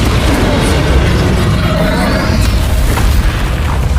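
Spell explosions in Hogwarts Legacy, a dense, loud, continuous stretch of booming blasts and bursts that overlap with no pause.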